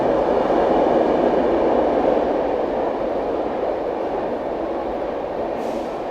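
Passing trains cross on the line, a Humsafar Express and the Marudhar Express, heard as a loud, steady rushing roar of wheels and carriages that stays close and continuous, easing only slightly toward the end.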